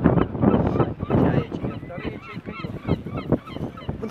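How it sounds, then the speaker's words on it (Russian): Large gulls calling in Ocean City, a crowded run of harsh honking cries repeating in quick bursts, close and loud, with some people talking faintly underneath. "Может, это соколы вообще, не чайки какие-нибудь?"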